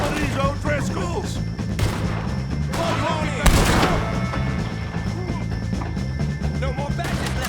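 Gunfire crackles through a Red Dead Redemption 2 firefight with O'Driscoll gang members, scattered shots and one loud crash under steady background sound and shouted voices.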